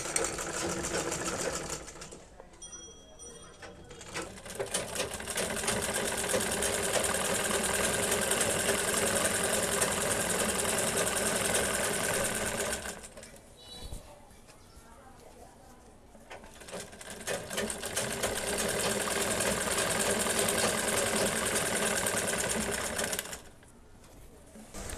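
A sewing machine runs a side seam on a salwar leg, whirring in two long, loud bursts with short pauses between them and a brief start-up at the beginning.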